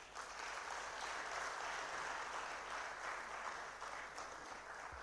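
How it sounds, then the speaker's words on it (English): Audience applause at a national health and human rights conference in Uganda, honoring young children of Mild May: sustained clapping from a crowd, fairly faint and even throughout. "Stand up and they give you a clap once again"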